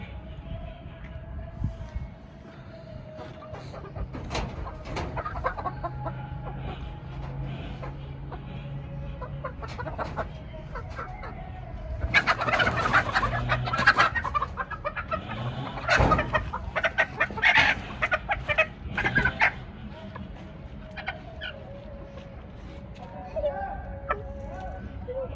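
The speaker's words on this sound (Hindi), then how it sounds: "मुर्गा नहीं है, मुर्गी है।" A hen clucking and squawking in flurries as people try to catch her, louder bursts midway, with voices talking throughout.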